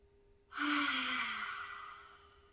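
During a small sacral chakra sound bath, one long, breathy exhale swells quickly and then slowly fades, close and soft, above a faint, steady tone.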